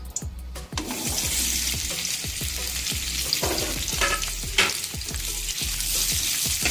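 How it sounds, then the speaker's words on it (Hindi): Cubed tomato and onion sautéing in a hot pan for a pineapple chicken recipe, a steady close sizzle with repeated clacks of a spoon stirring against the pan throughout, no talking. "अब इन्हें मैं सौते करने लगा हूँ।"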